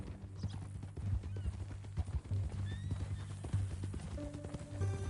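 Horse hooves clip-clopping with a whinny from a new horse in Red Dead Redemption 2, steady hoofbeats and a brief neigh over low rumbling background and music.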